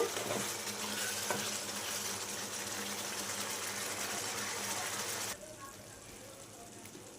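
Mutton chukka curry with garam masala is stirred in a pan, giving a soft, continuous sizzle with faint scraping that drops away abruptly near the end, leaving quiet background hiss.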